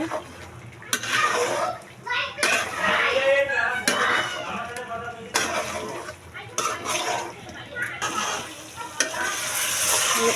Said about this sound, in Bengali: আলু আর ফুলকপিটা একটু মশলার সঙ্গে কষিয়ে নিব সুন্দর করে।